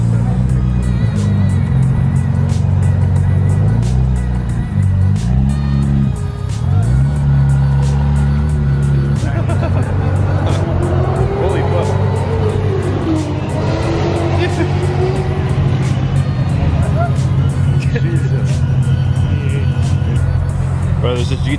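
Cars idling and revving at a car show in a McDonald's parking lot with many Nissan GT-Rs around, loud continuous engine drone with shifting pitch and a passing rise, heavy voices talking throughout.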